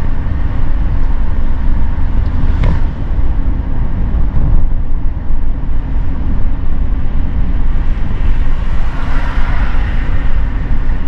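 A Mercedes-Benz E320 CDI V6 diesel cruises at speed, a loud steady roar of engine, tyres and wind from inside the cabin, unbroken for the whole stretch.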